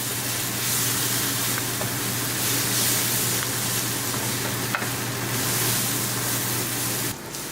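Cluster beans (guar) sizzle steadily in a pan on a medium gas flame while being stirred, a constant frying hiss over a low kitchen fan hum, with a few soft scrapes and a brief clatter near the end.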